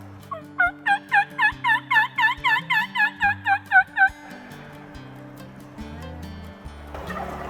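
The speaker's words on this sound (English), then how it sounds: "There's turkeys all the way up here already." A Merriam's wild turkey gobbles in a rapid burst of about a dozen loud, rhythmic throaty pulses, fairly close in open mountain air, followed by quieter ambient rustle.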